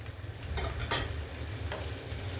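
Turmeric, chili and coriander powders with vegetable stock are stir-fried in a pan, a close bubbling sizzle broken by a couple of scraping spatula strokes.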